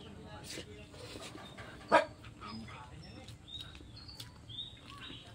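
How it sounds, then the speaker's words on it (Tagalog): Dogs bark at passers-by, with one sharp, loud bark standing out amid fainter yips and whimpers, over low background noise with birds and a person talking. "Pag may dumadaan, nagtatahulan."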